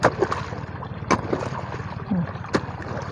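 Irrigation water runs and gurgles through a channel in a sugarcane field, a close, continuous wash with a few sharp splashes and knocks mixed in.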